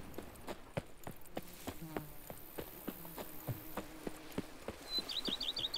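Hooves of the horse Roach clip-clop in a steady walking rhythm in The Witcher 3, with insect-like buzzing and ambient hum around them and a brief high chirping near the end.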